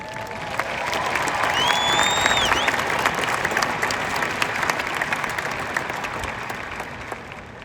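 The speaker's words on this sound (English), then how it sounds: "they deserve our applause too." A crowd at a university commencement applauds steadily, the clapping swelling and then slowly fading, with a whistle or cheer rising briefly near the start.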